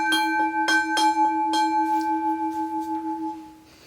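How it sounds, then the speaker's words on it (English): A Westinghouse second generation hybrid bell rings as its hammer strikes a gong several times in quick succession, bright ringing tones lingering and fading between the close, loud hits. "the part that makes the hammer go up and down to make the bell ring."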